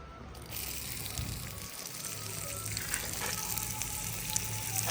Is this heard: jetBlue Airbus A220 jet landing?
no